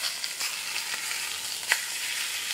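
Veal chop trimmings sizzle steadily in a hot pan, a close, bright crackling fry with small pops scattered through it and no voices.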